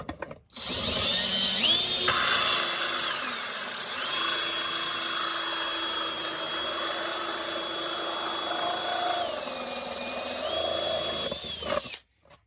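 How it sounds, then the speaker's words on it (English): A hole saw drills steadily through the side of a chest box for an AT-AT driver costume build, a loud continuous whine with shifting pitch that runs nearly twelve seconds before stopping abruptly. "So I'll go ahead and drill the first hole here on the side."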